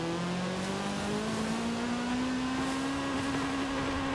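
A Honda CRX drag car engine in the Forza Horizon video game drones loud and steady, its pitch climbing slowly as it revs up, with no voices.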